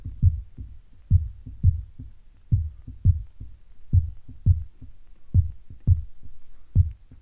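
A gated kick drum in a jungle breakbeat thumps in a steady, punchy pattern, each low hit cut off cleanly with tight decay and nothing else around it.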